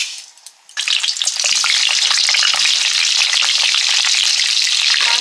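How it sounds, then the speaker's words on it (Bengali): Potatoes for a chicken curry hit hot oil with a sudden loud burst of sizzling that settles into a steady, close frying hiss with light stirring and no talking. "মাংসের আলুগুলো ভেজে নিচ্ছি।"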